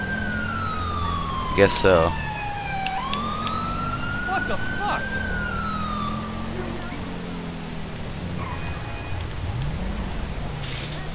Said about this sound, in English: do I have to really put my sirens on for everybody to get out of the way?